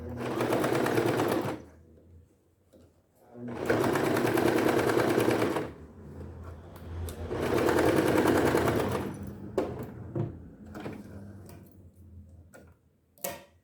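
A sewing machine runs a safety seam around the edge of a small fabric planter pouch, whirring in three steady bursts of stitching separated by pauses, with light clicks and handling noises in the gaps.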